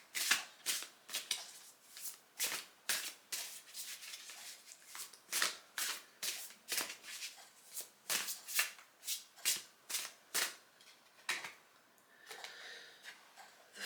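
A Pastoral Tarot card deck is shuffled by hand, a long run of crisp riffling flutters in quick bursts, close and fairly quiet, repeating steadily with short pauses between.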